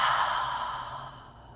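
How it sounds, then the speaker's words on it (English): A single long, breathy exhale fades out slowly during a yoga stretch, close and soft, with no talking. "breathe, breathe"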